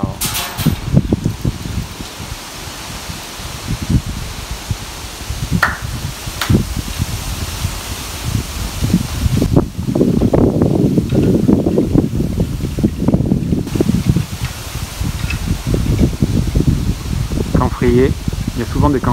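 Strong gusting wind from a typhoon passing offshore buffets the microphone outside a Japanese shrine, roaring steadily and rising in force midway, with someone talking throughout.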